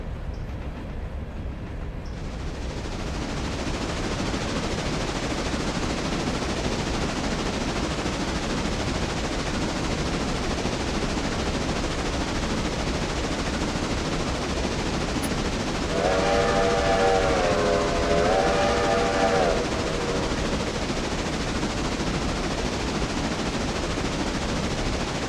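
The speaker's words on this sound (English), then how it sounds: "Just felt like blowing a horn whistle." A train horn whistle sounds in the Railroader railroad video game, a steady two-tone blast held for about four seconds over continuous loud rumbling locomotive and rail noise.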